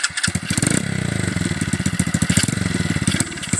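A Honda Little Cub motorcycle engine fires up on its electric starter and settles into a rapid, even putter of idling beats, close and clear beside a pond.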